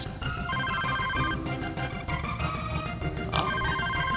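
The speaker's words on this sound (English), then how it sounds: "Phone call." A telephone rings in the Mischief Makers video game, an electronic trilling tone repeating over busy, loud game music and effects.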